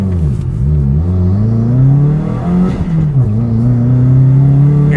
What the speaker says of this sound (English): Hear that turbo?